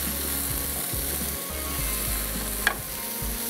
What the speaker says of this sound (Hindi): बस नमक और लाल मिर्चों के साथ हमने इसको अच्छे से करना है फ्राई